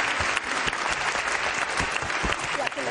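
Steady, dense applause from an audience at an instrumental composers award event, continuous clapping of many hands close by for a few seconds, with no clear voices.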